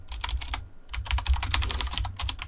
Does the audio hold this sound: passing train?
no